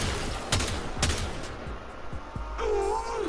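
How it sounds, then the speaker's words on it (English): Tiberon Prime rifle bursts in the Warframe video game: a couple of sharp, punchy gunfire bursts crack out close and loud, followed by rumbling game effects and a rising-and-falling electronic tone. "some days you just want to use burst weapons, so you'll use the burst fire mode"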